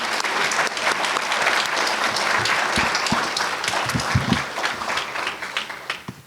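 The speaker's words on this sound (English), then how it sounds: "One more round of applause." Sustained audience applause fills a university reception hall after a graduate student scholarship award, dense and even for several seconds before trailing off, with a few distinct claps and faint voices underneath.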